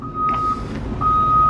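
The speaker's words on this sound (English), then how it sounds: "Here comes our correct truck right there. See how good he can park in this spot." 2020 Chevrolet Silverado HD pickup reversing into a parking spot, two sustained high reversing beeps separated by a gap over a low engine rumble, close by.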